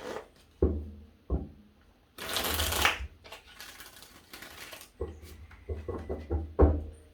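A deck of tarot cards is shuffled by hand, with sharp taps and knocks of the deck between two longer riffling bursts of cards, close and fairly quiet.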